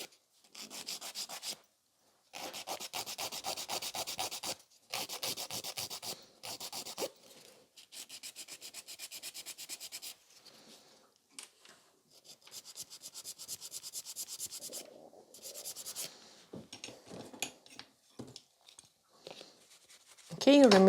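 Nail file rasping across a sculpted fiber gel nail extension in quick rhythmic back-and-forth bursts, separated by short pauses, close and crisp, with someone talking at times.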